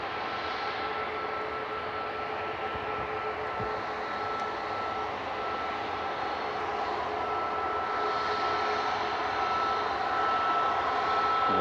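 easyJet airliner departing Manchester Airport: a steady jet engine roar with tonal whine lines, growing slightly louder toward the end as the takeoff run builds.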